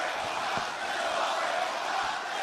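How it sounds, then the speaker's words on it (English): Wrestling crowd at an Ospreay match, cheering on the struggling wrestler: a steady, dense wash of arena noise held at even loudness, with scattered shouts, no single voice standing out. "Fans trying to cheer Ospreay on, motivate him."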